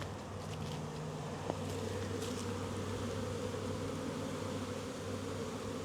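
Honeybees swarm around a hive in sunshine, filling the air with a dense, continuous buzz as many bees fly close by, with a brief tap partway through.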